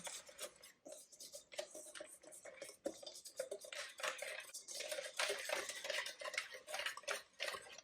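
Potato starch and all-purpose flour tempura batter for shrimp tempura being stirred in a bowl, a quiet, rapid clatter of utensil against the dish in a continuous, uneven rhythm.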